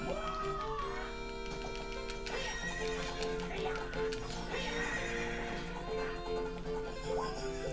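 A horse in Ocarina of Time Master Quest neighs and whinnies loudly over steady game music, with clip-clop hoofbeats in the mix.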